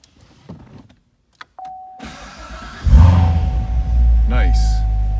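A 2015 Chevrolet Corvette Stingray Z51 3LT convertible with a 7-speed fires up: quiet clicks and a short whir, then the engine catches with a loud, close rumble and settles into a deep, steady idle.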